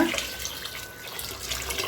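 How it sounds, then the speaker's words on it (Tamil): Water is poured into a pot of soaked rice and lentils for cooking, a steady close trickling splash that runs continuously and quietly, with no talk over it. "இப்போ தண்ணி ஊற்றிக்கலாங்க."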